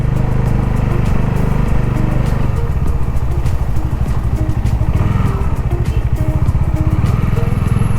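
A motorcycle carrying a pillion passenger rides along a road, its engine droning steadily and loudly throughout with wind buffeting, part of a group ride toward a fan park in Tirupati.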